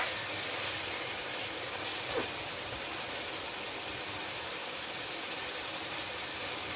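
Bolognese mince browns in a hot pan as its liquid cooks off, giving a continuous close hiss and steady sizzle with no break, and no voices over it.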